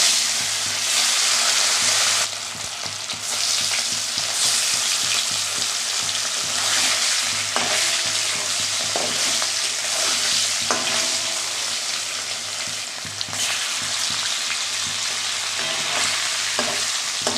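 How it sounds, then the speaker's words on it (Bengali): Rohu fish pieces frying in hot oil in a wok for a potato and eggplant curry, a loud, dense, continuous sizzle with occasional spatters and stirring clicks, close up with no talking. "কড়াইতে মাছ দিয়ে দিলাম"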